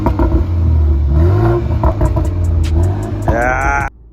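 A 2021 BMW 330i M Sport in Sport Plus mode accelerates hard, its engine note rising steadily through the revs, then a brief sharp climb before the sound cuts off abruptly.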